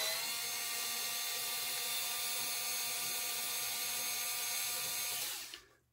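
Power driver whirring steadily at high speed while backing a screw out of a plate on a Marantz 6200 amplifier, close and continuous before spinning down at the end.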